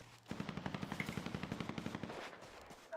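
Rapid automatic gunfire in a GTA roleplay game, a fast steady string of about twenty shots that fades out near the end.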